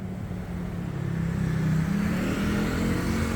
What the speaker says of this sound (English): Little tuk-tuk standing by to race you over to the Thong Lo BTS